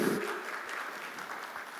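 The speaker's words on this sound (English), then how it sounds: "Let's put a round of applause just to welcome him." Audience applause welcoming MP Shashi Tharoor at a business ecosystem launch event in Dubai, a steady, fairly soft wash of many hands clapping with no talk over it.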